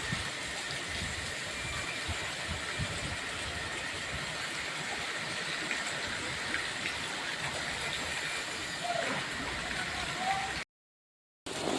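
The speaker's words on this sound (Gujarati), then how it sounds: "यहाँ बहुत तेज बारिश कर रही है" Heavy rain in Kutch, Gujarat, roars in a continuous dense wash of noise, steady and enveloping, before cutting off abruptly near the end.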